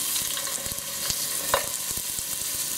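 A garlic clove sizzling in hot olive oil in a pan for pasta sauce, a constant close crackling hiss with scattered light pops and stirring clicks.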